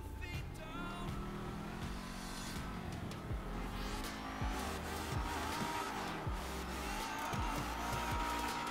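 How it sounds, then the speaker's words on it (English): Engine revving and accelerating from a lowered car at a race start in GTA 5, a continuous loud motor drone with rising pitch sweeps and occasional tire squeal. "now we're gonna rev the engine, we have the car lowered, and we're gonna double clutch"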